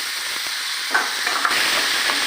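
Taro pieces fry in hot oil with cumin, chili powder and ginger paste, giving a steady broadband sizzle with a few soft stirring knocks partway through, close and fairly loud throughout.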